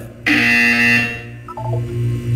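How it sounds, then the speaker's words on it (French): A loud, steady electronic buzzer tone from the game Portal 2 sounds for about a second, followed by a short run of rising electronic beeps. "Bien, vous allez entendre une sonnerie."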